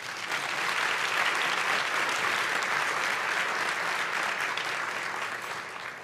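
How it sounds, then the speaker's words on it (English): An audience at a Boys and Girls Clubs fundraising gala bursts into dense, sustained applause that swells quickly, holds steady for several seconds, then begins to taper. "One more round of applause."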